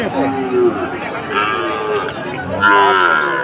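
Calves at a busy cattle market in Chaumuhani, Brahmanbaria, low and drawn out, lowing close by while people talk loudly and a crowd murmurs throughout.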